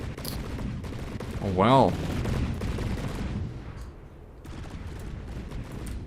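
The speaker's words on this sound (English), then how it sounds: "I kind of like the sound of these cannons. They have a nice sound to them." Naval cannons firing in the ship-combat game From the Depths, a rolling series of booming shots with one louder swelling blast in the middle, continuous battle rumble throughout, and someone briefly speaking.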